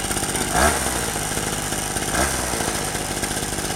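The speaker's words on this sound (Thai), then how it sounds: "วันนี้แค่ฟังเสียงไปก่อน ฟังเสียงรอบหมุนไปก่อน" A homemade motor engine runs at high revs, giving a loud, continuous buzzing drone close by, with two brief swells in pitch as it revs.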